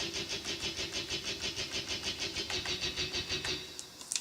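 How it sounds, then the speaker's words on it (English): A steady, rhythmic synth guitar-chug sound from an ISLA Instruments KordBot pulses about five times a second for several seconds, then stops, leaving a couple of faint clicks. "that does a chug, a guitar chug sound"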